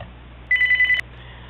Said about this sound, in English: okay, that was the phone.